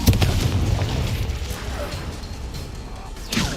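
An Incendio fire spell cast during a duel in Hogwarts Legacy: a loud booming blast at the start fades into a roaring tail, then a second burst flares up just before the end.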